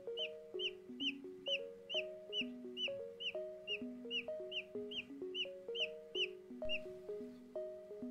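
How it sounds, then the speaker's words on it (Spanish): A chick hatching in a homemade incubator peeps steadily from inside its hen's egg, a regular series of close, bright cheeps repeating without pause. "se puede apreciar cómo pía en el interior del huevo"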